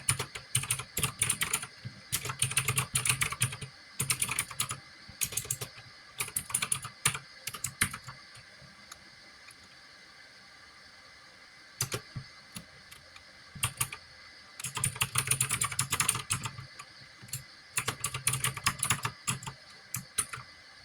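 Rapid typing on a computer keyboard while a weather app's search box autofills, bursts of close, crisp key clicks separated by short pauses, with no voices.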